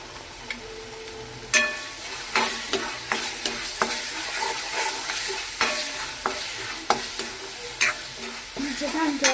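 Spice masala frying in a pan, a constant close sizzle punctuated by regular sharp scrapes and taps of a spatula stirring it, about a dozen strokes at an even pace.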